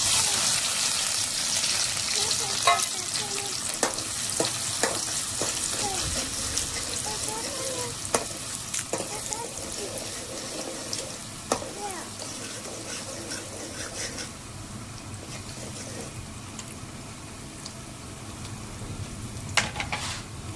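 Onion frying in a pan for a home recipe, a steady crackling sizzle with clinks and scrapes of a spoon, close and continuous throughout.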